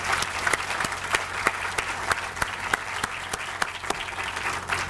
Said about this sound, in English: that deserves an applause in itself